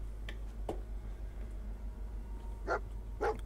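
A dog in the video game Fallout 4, in the Diamond City area, barks three times in short, separate bursts over a steady low hum of game ambience.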